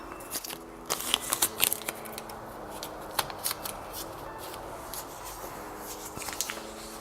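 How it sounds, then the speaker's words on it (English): Painter's tape peeled and pressed onto the back of a Friday Labs HomeKit smart lock, a series of close, irregular crackling tears and rubs with short bursts and pauses over a quiet background. "I'm going to use some painter's tape to tape the back so that it doesn't fall off as I'm working with it"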